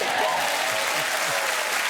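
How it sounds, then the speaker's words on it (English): Studio audience at a television chat show clapping and cheering in a dense, loud, unbroken wash of applause that fills the whole moment. "that applause that's people I think are happy to see you doing better"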